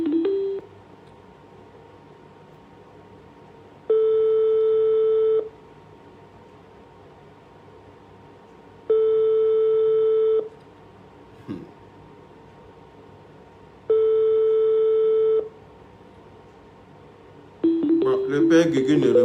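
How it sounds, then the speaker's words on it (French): An unanswered phone call's ringing tone, three long, evenly spaced steady tones of about a second and a half each separated by quiet gaps, loud and close, with brief garbled sounds at the start and end. "Le père Gugu ne répond pas à l'appel"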